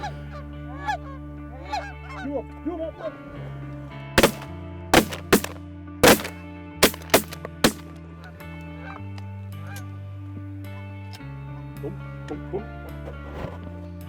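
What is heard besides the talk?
geese honking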